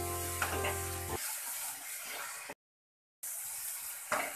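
Tomato masala frying in a pan for shahi paneer, a soft sizzle with occasional stirring scrapes, cutting out briefly to silence before the sizzling resumes.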